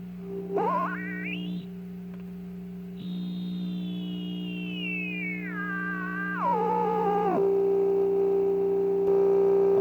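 Oscillating tone from a 1952 Heathkit signal generator, sweeping up sharply, then gliding slowly down in pitch as the dial turns, before settling into a steady hum, with no voices.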